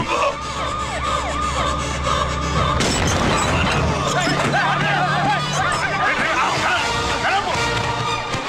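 A bomb explosion in a Telugu movie scene bursts out loudly partway through, its rumbling boom and debris crashing over a dense bed of music, siren-like wails and crowd voices.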